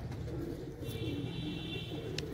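A pigeon coos softly in a coop where old pigeons are kept, heard once faint and low against steady background noise and a brief chirp.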